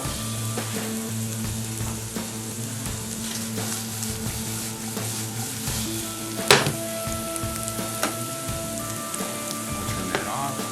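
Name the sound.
onions browning and sizzling in a frying pan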